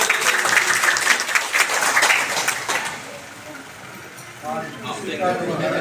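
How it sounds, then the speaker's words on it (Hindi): Strong applause from an audience at a public gathering honouring elderly people, dense clapping filling the first few seconds and then fading, with voices over it toward the end. "इनके लिए जोरदार तालियां"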